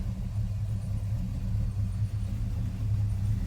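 A 1956 Chevy 210 Coupe engine rumbles steadily from inside the car during a drive. The low, even drone continues without a break.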